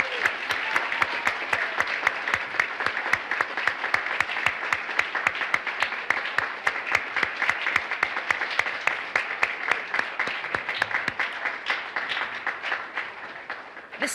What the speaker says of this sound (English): How about one more round of applause to our newly elected Kid Governor and our special guests.